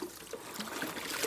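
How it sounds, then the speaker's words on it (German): Fresh water trickles and splashes as it is poured into a container for animals, a soft continuous pouring sound at low volume. "Einmal frisch Wasser auffüllen."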